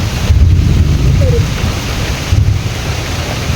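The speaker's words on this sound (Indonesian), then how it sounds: "Wow, udah turun hujan nih teman-teman." Steady rain pours down close by in a rural spot near rice fields and a fishpond, a dense, even hiss with a low rumble beneath, heard alone without talk.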